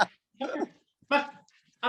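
A pet dog making short vocal bursts, a few separated barky whines and grumbles close by, interleaved with a person speaking to it.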